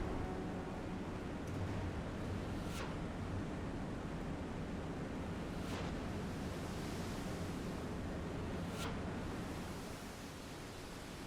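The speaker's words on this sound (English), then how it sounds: "Right, the waves are getting choppy." Choppy ocean waves in the naval game Silent Hunter 5 during a World War II Atlantic patrol, a constant broad rush of water and wind with a few sharp splashes breaking through, heard without any voices.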